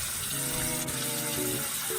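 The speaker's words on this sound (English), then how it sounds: "I have to turn on the water" Warm water running steadily from a bathroom tap into a sink, a continuous close rushing stream with no talking.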